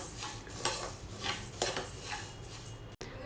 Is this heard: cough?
no